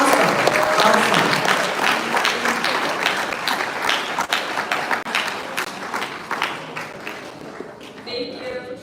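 A youth convention audience gives a sustained round of applause after a talk, dense clapping filling the room at a steady level before tapering off near the end.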